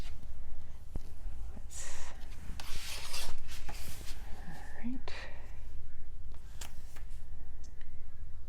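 Score tape is burnished down onto paper for a Christmas mini album, giving soft rubbing and rasping strokes in short bursts, close to the mic, with some faint whispery noise and a few small clicks.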